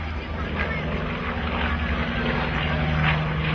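A large propeller-driven warplane developed from the Dauntless, with huge wings and a heavy bomb load, drones steadily overhead in a loud, continuous engine roar with a pulsing low hum, while a voice talks over it.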